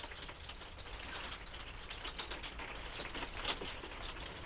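Steady rain drums on a camper van parked at a riverside motorhome site on the Neckar in Obrigheim, a dense continuous patter with scattered sharper drops, close and even throughout with no talking.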